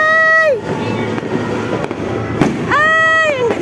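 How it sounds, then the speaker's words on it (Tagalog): New Year's fireworks crackle and boom close by, loud bursts scattered through the clip between whistling tones at the start and end. "Yung paputok."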